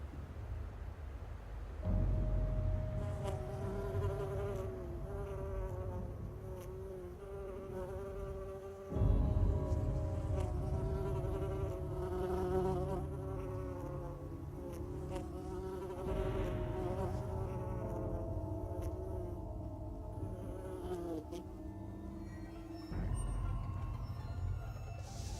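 Flies buzz continuously in the video game The Secret World, a steady droning hum with shifting pitch that stays close and fairly loud, layered over low game ambience with no talk.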